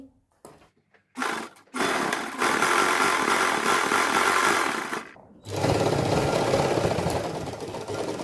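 A sewing machine stitches elastic onto cloth in fast, rattling bursts, with a couple of short starts and then two long continuous runs separated by a brief pause, close and loud.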